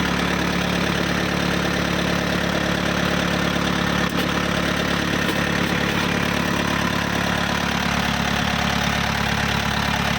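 A Yanmar 45 hp tractor engine runs at a steady idle, a loud continuous rumble with a faint knocking rhythm and no change in pitch throughout, with no talking.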